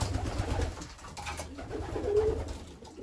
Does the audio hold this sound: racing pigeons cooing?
yes